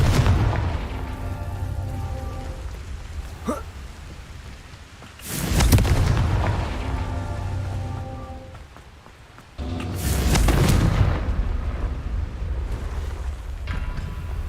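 Two heavy booming blasts of the Confringo fire spell in Hogwarts Legacy, each a loud sudden burst that rolls off into a low rumble, about five seconds apart over a quiet droning game background.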